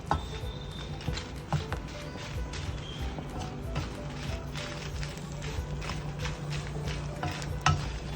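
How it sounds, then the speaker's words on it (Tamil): Dried red chillies roast in oil over a low flame for idli podi, with a continuous gentle sizzle and repeated scraping stirs of a spoon against the pan. "இது வரைக்கும் இந்த மிளகா வத்தல் வறுக்கணும்."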